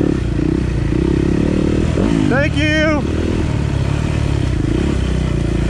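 Loud, constant buzzing engine and wind rush from a Honda motorcycle running a race lap at Blueberry Hill in Collinsville, Alabama, with a brief rising rev from a nearby bike midway and a rider speaking briefly over it.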